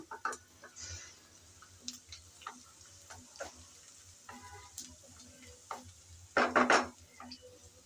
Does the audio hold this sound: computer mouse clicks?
no